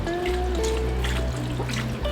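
Water trickling and pouring steadily into a pot holding green beans, potatoes and smoked ham hocks, a continuous close liquid splash with a low kitchen hum underneath.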